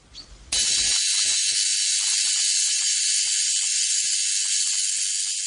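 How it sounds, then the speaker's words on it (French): A spark-gap radio transmitter signal comes through as a sudden, loud, steady wash of harsh static hiss. It holds unbroken for several seconds after a quieter start. "On entend le signal de notre émetteur à étincelles sur les petites, moyennes et longues bandes de fréquence"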